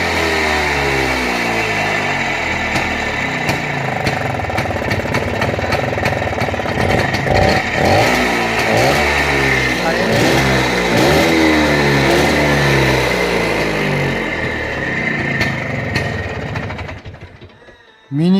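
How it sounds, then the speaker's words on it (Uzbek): A Minsk motorcycle engine starts and revs with a rapid, throbbing two-stroke pulse that rises and falls in pitch, loud and close, running continuously before cutting off at the end. "Mana hozir yurgizib beraman. Buni ham bir eshitib ko'rasiz motorini."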